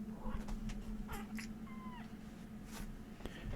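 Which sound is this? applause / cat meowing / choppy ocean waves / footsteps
cat meowing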